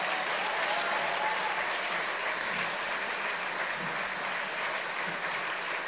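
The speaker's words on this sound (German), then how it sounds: "Großer Applaus" Steady, dense applause from a large crowd at an FPÖ election-campaign finale rally in Styria, loud and continuous throughout with no break.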